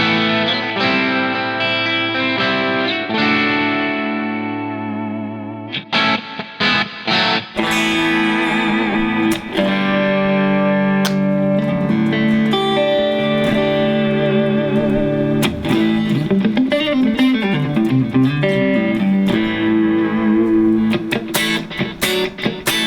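An electric guitar with heavy effects through an XVIVE P58 wireless system plays sustained, chorus-drenched chords, then shifts into distorted riffs and bending lead notes, loud and continuous.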